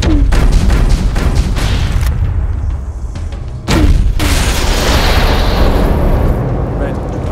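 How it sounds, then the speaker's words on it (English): A small mortar round exploding during a combat scene in an action movie: heavy, close blasts with deep rumble, one at the start and a second around midway, followed by a sustained roar of debris and noise. "That was a small mortar round."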